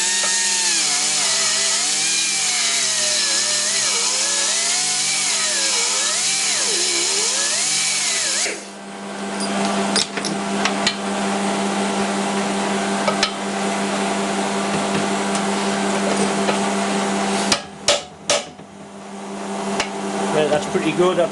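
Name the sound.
power tool cutting out a pin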